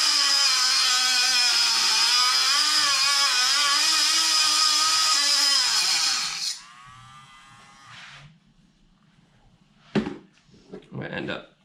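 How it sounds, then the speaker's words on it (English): Dremel rotary tool cutting during an intake install on an Audi RS3/TTRS, a loud high-pitched whine with wavering pitch that winds down at about six seconds, followed by scattered speech. "I'm going to do that with a Dremel."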